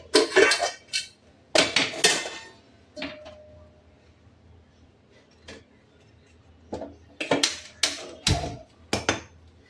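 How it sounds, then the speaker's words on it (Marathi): Vegetables for pav bhaji are mashed in a pot with a masher, giving loud clattering knocks and scrapes in bursts, with a quieter stretch in the middle. "त्याला मॅश करून घेते मस्त."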